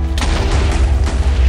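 Fireball explosions in a Minecraft Bedwars match: loud, continuous booming blasts with dense low rumble filling the whole stretch, several bursts overlapping without pause.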